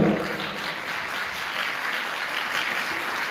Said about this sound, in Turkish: güçlü bir alkışlarla